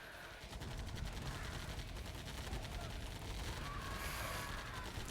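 Rapid, sustained rattling gunfire from minigunner infantry in the real-time strategy game Command & Conquer Remastered, dense overlapping bursts at steady loudness through the whole stretch, with a brief higher effect near the end.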